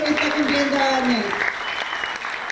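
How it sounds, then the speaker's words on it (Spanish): Applause for a birthday at a Sotavento-style music gathering, a crowd clapping steadily while a voice calls out over the start, fading a little toward the end. "Un aplauso para Arturo que está cumpliendo años."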